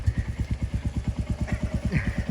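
A motorcycle or scooter engine idles nearby with a fast, even putter of regular firing pulses and a slight swell in the last second.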